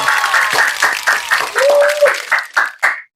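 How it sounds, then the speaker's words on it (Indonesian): A studio audience at an Indonesian podcast claps to welcome a guest, a dense burst of hand claps that thins into a few scattered claps and stops after about three seconds. "Tepuk tangan dong."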